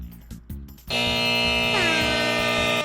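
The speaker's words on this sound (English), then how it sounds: "Random air horn" A loud, sustained air horn blares for about two seconds, its pitch bending partway through, after a few short electronic beeps and notes from a quiz game.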